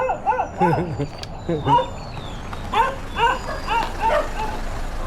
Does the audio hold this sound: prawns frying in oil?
no